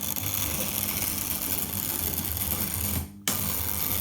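A Tri-ang R.355 0-4-0 model locomotive runs, giving a steady, close, buzzing motor whir that briefly cuts out near the end before resuming.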